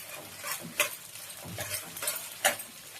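Edible gum puffs and fries in hot ghee, giving faint crackling sizzles and a few sharper pops and stirring clicks over a quiet background.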